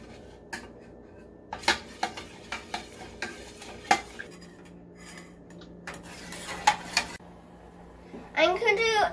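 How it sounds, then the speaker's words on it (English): A spoon stirs an ice cream mixture as it heats in a pot, tapping and scraping against the metal in an uneven run of clinks, with a voice briefly heard near the end. "We're going to mix it well and heat it up"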